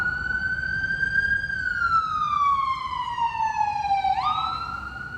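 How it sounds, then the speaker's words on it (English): A loud, wailing ambulance siren in Washington, DC sweeps slowly up and down in pitch, then jumps abruptly higher near the end, over faint background noise. "Ambulances are always around here"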